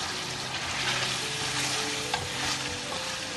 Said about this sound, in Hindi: इसको मैं ज़रा सा भूनती हूँ